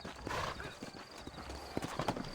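Horse hooves clip-clopping and a horse whinnying in Red Dead Redemption, set in New Austin, with uneven hoof knocks over a short stretch and a neigh near the start, close and moderately loud.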